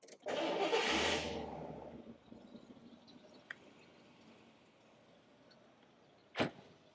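A 1971 Cadillac Eldorado convertible with a 500 cubic inch 8.2 liter V8 and three-speed automatic cranks and fires with a loud roar, then drops to a low, steady idle, with a single sharp knock near the end.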